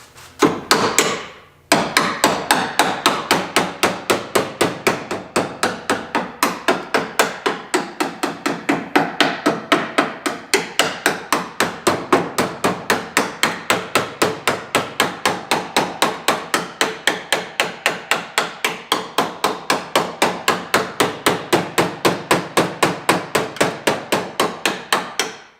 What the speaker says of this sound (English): Where's my hammer?